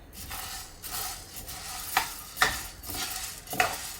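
Gram dry roasting in a pan, stirred in a rhythm of rustling, scraping sweeps with several sharp metallic clinks of the spoon against the pan, fairly quiet and close.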